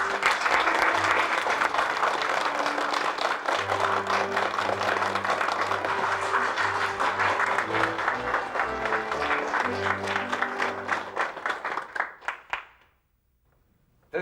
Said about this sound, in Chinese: 就咱以最热烈的掌声来欢迎咱磐石建设董事长刘立伟